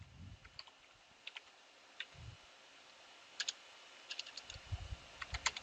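A computer keyboard is tapped while a command is entered, giving sparse, quiet key clicks in small irregular clusters, close up with a low background hiss and no speech.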